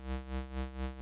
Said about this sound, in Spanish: Entonces yo tengo este oscilador LFO1 que tiene una onda senoidal